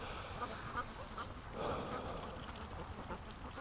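Ducks quack softly and at a distance in a few scattered calls over a steady outdoor background hiss, with no talking.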